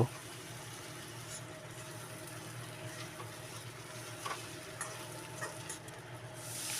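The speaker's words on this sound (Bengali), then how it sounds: "নেড়ে চেড়ে একটু কষিয়ে নেব।" Cumin powder, coriander powder and ginger paste are sautéed in a pan for a pointed gourd dish: a faint, steady sizzle with occasional soft stirring clicks, quiet and unbroken by speech.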